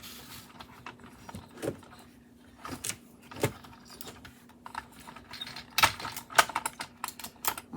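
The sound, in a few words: sublimation tape being pulled from the roll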